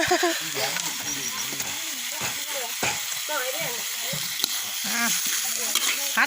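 Crocodile meat sizzles and crackles as it is stir-fried in a hot pan for a spicy Thai stir-fry, with a steady frying hiss running under a man's continuous chatter.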